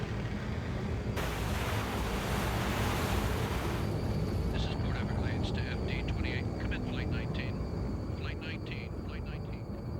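A loud, steady propeller-engine drone roars continuously, with a brief burst of hissing static and crackly radio-like chatter breaking in over it.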